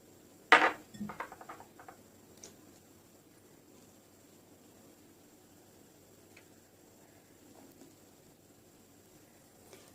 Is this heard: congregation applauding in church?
no